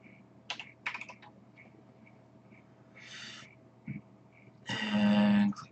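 Keys tapped on a computer keyboard while entering figures into a Bitcoin mining calculator, a few scattered clicks early on and then a denser, louder burst of rapid typing near the end, close and dry.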